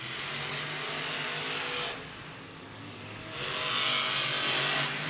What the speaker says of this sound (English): Adam Anderson winning off the jump, first turn.